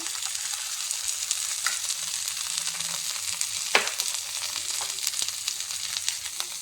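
Chopped green tomato hitting hot oil in a pan for an old-style Kerala curry, giving a steady close sizzle throughout with a few sharper crackles and stirring scrapes, no voices.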